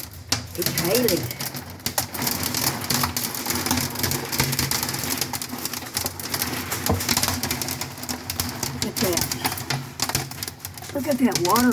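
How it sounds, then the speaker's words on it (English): Hail falling outside a window during a storm in Fort Stockton, Texas, a dense steady patter and rattle with running water, while people talk over it throughout. "Look at the hail coming down."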